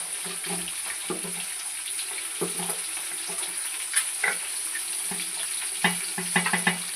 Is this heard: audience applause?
no